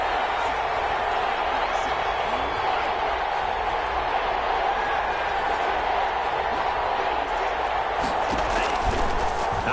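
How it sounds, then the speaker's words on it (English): Crowd noise in a PS4 American football game, a steady, loud roar of a stadium crowd building ahead of a big third down, with commentary voices over it. "The crowd getting into it as we come up on a big third down."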